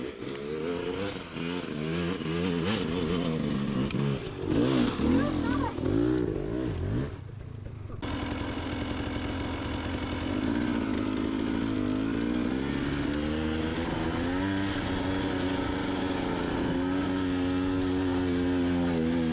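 A two-stroke adventure motorcycle on a desert hill climb gives a buzzing, revving engine note that rises and falls for the whole stretch. The engine is loud and fairly near, and its pitch shifts sharply partway through.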